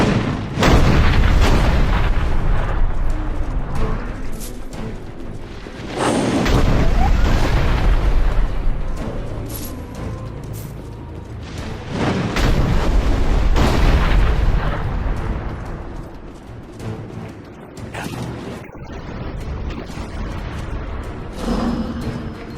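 Cannon fire rolls through a battle in the video game Dungeon Siege III, heavy booms and rumbling blasts in loud waves separated by brief lulls, with faint battle noise between them.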